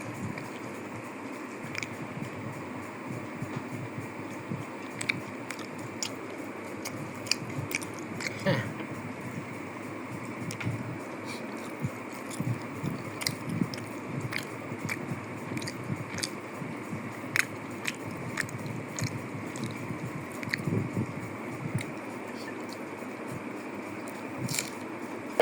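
Someone eating spiced khichuri, a rice and lentil dish, at close range, with soft chewing, smacking and squishy mouth sounds plus occasional light scrapes of cutlery or fingers on a plate.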